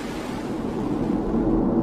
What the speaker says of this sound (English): And liftoff of the Falcon 9 and upgraded Cargo Dragon, the first cargo capsule to dock to the International Space Station.